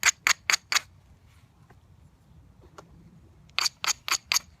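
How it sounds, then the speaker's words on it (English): Direct percussion knapping on stone gives sharp, close clacks in a quick burst of four, then a near-silent pause with a faint tap or two, then another rapid set of four strikes. "I'll try and raise it a little bit more and take another shot back into that same area"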